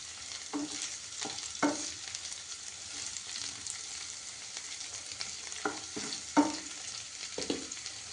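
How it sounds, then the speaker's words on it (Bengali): Broccoli frying in a pan, a steady close sizzle punctuated by several scraping stirs and light utensil knocks, with no talking. "এগুলোকে একটু ফ্রাই করে নিচ্ছে।"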